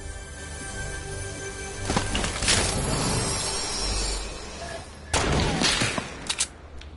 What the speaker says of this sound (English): Did you shoot?